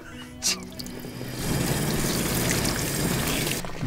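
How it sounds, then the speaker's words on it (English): Running water at an Oregon campsite pours in a steady, close rush that starts after a brief knock and continues to the end. "Like that running water."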